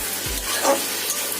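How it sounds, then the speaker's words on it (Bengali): Spine gourd and potatoes frying in spices get stirred in a pan, a short soft sizzle with a spoon scraping once, close and fairly faint. "অনবরত নাড়তে হবে।"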